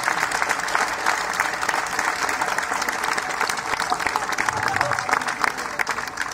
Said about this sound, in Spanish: Un aplauso para Baracaldo Digital.